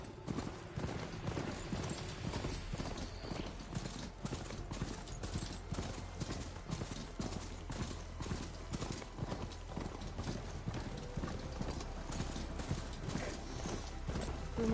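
A herd of Charger machine creatures gallops in Horizon Forbidden West, making a steady, continuous clatter of hoofbeats with a faint mechanical edge, dense and fairly close throughout.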